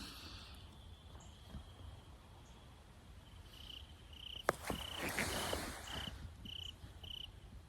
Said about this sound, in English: Don't those crickets sound beautiful?